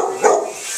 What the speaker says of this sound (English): Roxy, you don't have to bark